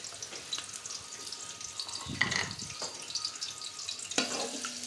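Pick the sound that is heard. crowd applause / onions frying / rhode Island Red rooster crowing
onions frying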